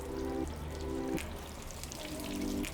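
Garden hose spraying a solid stream of water onto a car bonnet, a soft, continuous splashing trickle, fairly faint, with a steady low hum underneath.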